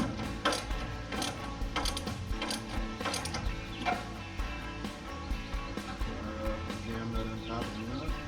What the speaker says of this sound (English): come back to the top here, and 9/16 ratchet